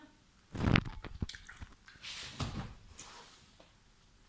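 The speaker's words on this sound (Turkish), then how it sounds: "İstediğim kadar sakız çiğnerim." Gum being chewed with wet smacking and clicking bites, irregular mouth sounds close up, louder at the start then softer.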